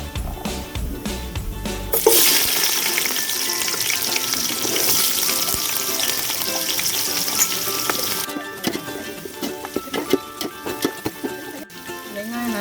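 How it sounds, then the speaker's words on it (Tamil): Sliced onions dropped into hot oil with cardamom and whole spices for chicken tangdi biryani burst into loud sizzling, then keep up a steady frying hiss with stirring scrapes. "வெங்காயம் நல்லா வதங்குறதுக்கு கொஞ்சம் உப்பு போட்டுக்கலாம்."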